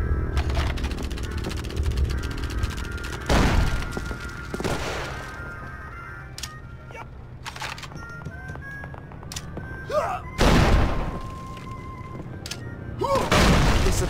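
Grenade explosions in Call of Duty 3, a World War II shooter: several sharp, loud booms spaced a few seconds apart, with quieter battle noise and in-game voices between blasts.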